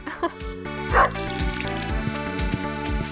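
A pet dog in the farming game Stardew Valley gives a few short yips and barks over looping tonal background music, small and mid-level in the mix.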